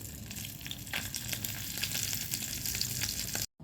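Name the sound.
fish frying in hot oil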